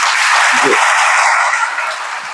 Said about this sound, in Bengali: আমরা স্যারকে একটু জোরে করতালি দিয়ে বিদায় দিই।